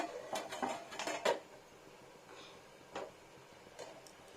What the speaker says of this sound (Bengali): এবার হিট হয়ে গেছে এবার এটাকে একটা থালা ঢেকে দেবো